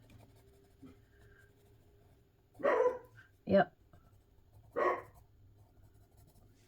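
A few sharp dog barks ring out in short bursts, spaced a second or two apart, against a quiet background with a faint steady hum.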